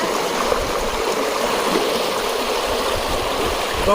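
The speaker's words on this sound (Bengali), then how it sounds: "পানির কি শব্দ কল কল" Swift monsoon floodwater streams and gurgles steadily outdoors where fish are being caught, a dense, even rush of flowing water with no voices and only a slight swell at the end.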